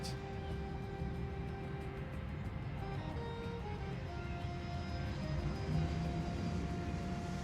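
Airliners descend to land at an airport in Airport CEO, a constant mid-level jet and engine hum with faint tonal whine, steady and fairly distant, rising slightly toward the end with no speech.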